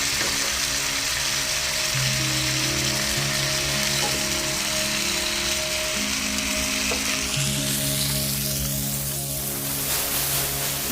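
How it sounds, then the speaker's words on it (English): Three cloves of garlic cut into small pieces sauté in a pan, giving a loud, continuous crackling sizzle throughout, with soft music playing underneath. "Saute 3 cloves of garlic cut into smaller pieces."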